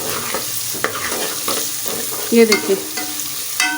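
Coarsely crushed garlic frying in a pan for a palak gosht aloo dish, with a steady sizzle and intermittent scraping stirs and clinks, while a voice briefly speaks over it.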